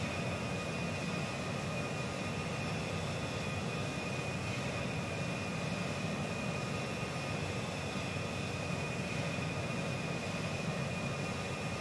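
Steady, even jet engine roar of an Embraer E-195 airliner in a flight simulator game, a broad continuous rush with a faint high whine, unbroken for the whole stretch and with no talking.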